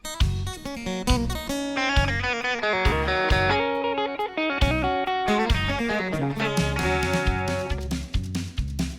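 An electric guitar plays a quick, twangy country lick with bright picked notes and bends, ending on ringing chord strums, loud and close with no talking.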